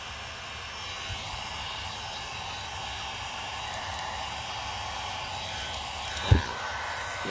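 A hair dryer blows steadily throughout, drying alcohol ink painted on Pixiss substrate, with a broad continuous whoosh and one brief knock near the end.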